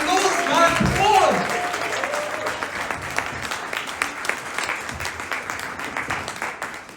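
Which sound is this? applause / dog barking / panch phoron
applause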